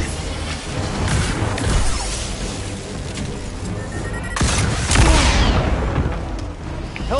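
Blaster fire during a battle in Star Wars Jedi: Survivor, with rapid zaps and booming impacts overlapping in a busy, loud stream, a sharp burst near the middle and heavier blasts toward the end.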